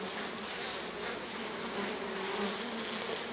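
Dense, continuous buzzing of many honey bees close by at a clay-daubed hive, a steady drone with slight swells in loudness.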